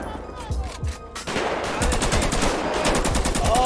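Gunfire in Grand Theft Auto during a gang street attack: repeated sharp shots, with bursts of rapid automatic fire in the second half, loud and close over game background noise.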